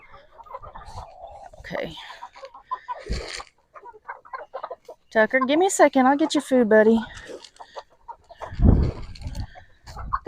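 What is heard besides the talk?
chickens clucking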